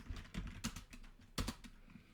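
Computer keyboard typing during accounting data entry, a quiet run of soft irregular keystrokes with a couple of sharper louder clicks, close by and with no talking.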